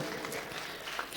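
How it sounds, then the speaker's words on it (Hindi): A crowd at a poetry recital gives a brief, faint burst of applause, a soft, diffuse patter of clapping heard from a distance. "एक बार जोरदार तालियां बजाकर आप सब मुझे इजाजत दें।"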